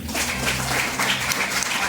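Wedding guests applaud in a steady, dense patter of clapping throughout, with no speech over it.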